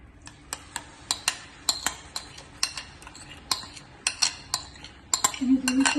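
A utensil stirs mango puree in a pan for halwa, striking the metal in a quick run of sharp clinks and scrapes, close and fairly loud, ending with a brief sizzling burst.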